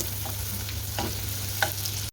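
Chopped onion, garlic and a dried chilli frying in hot oil for a tempering, a steady sizzle with a few light stirring scrapes, close and without speech.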